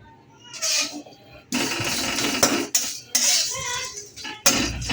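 Sooji, a semolina bait mix for carp fishing, is stirred and fried in a pan, with a spoon scraping and clinking against the metal in irregular close bursts over a soft sizzle.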